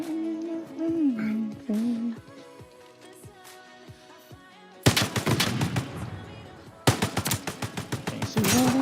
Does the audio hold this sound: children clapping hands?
no